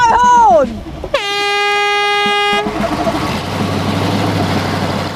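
Loud air horn blasts a long steady tone to start a land tug challenge in a scrapheap vehicle competition, just after a brief falling tone, then engine rumble and an outdoor crowd take over.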